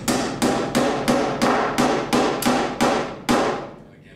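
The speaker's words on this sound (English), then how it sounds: "And we're going to tap this in." A hammer taps a wooden catch into place under a joist, with nine evenly spaced sharp knocks, each with a short ringing tail, close and loud, and no talking.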